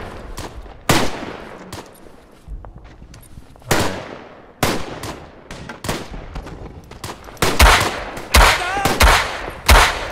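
Mortar strikes slam down in the World War I shooter Tannenberg: a string of loud, sharp blasts, several close and heavy, scattered across the battlefield with rolling rumble and debris between them, and no speech.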